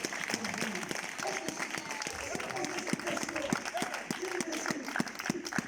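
Steady applause from a church congregation, with hands clapping loudly and continuously throughout while a voice speaks over it.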